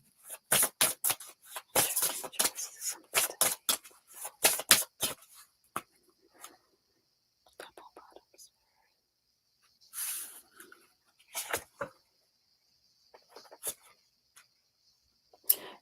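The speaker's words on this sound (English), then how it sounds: "I shuffled a different deck" A deck of oracle cards shuffled by hand, a rapid flurry of crisp papery riffles and slaps at first, then sparser, quieter card flicks and taps, close and intimate with no talking.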